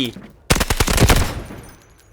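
A rapid burst of SMG-45 submachine gun fire in the shooter game Delta Force, about a dozen close, loud shots in quick succession that trail off into a fading echo.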